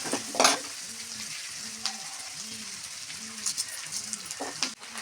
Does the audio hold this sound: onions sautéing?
yes